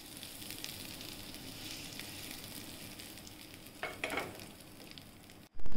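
A hot tempering of mustard seeds, curry leaves and cumin sizzles steadily as it meets instant soft set dosa batter. A few sharper crackles come near the end, then a sudden loud thump closes it. No one speaks.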